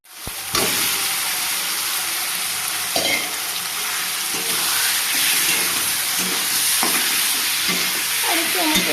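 Soybeans fry in hot spiced oil while being stirred. A steady, loud sizzle and hiss runs throughout, broken by occasional scraping and clacking stir strokes, with no talk.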